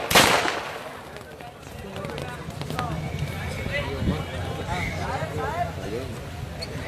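Firecrackers burst at an outdoor Eid gathering, one sharp loud crack at the start followed by scattered pops and crackles under continuous crowd chatter and a voice over a loudspeaker.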